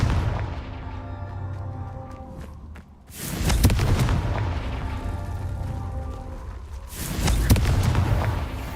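Confringo fire spell explosions in the Hogwarts Legacy video game, two loud booming blasts a few seconds apart, each with a sharp crackling onset and rumbling tail over a humming game background.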